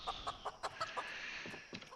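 Chicken clucking in the Project Zomboid video game: a quick run of short, soft clucks repeating in an uneven rhythm, fairly quiet and with no talk.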